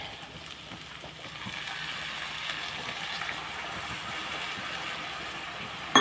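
Water is poured into a pan of simmering okra tamarind curry, a steady close hiss of liquid lasting several seconds with faint kitchen clatter, ending in a sharp clink.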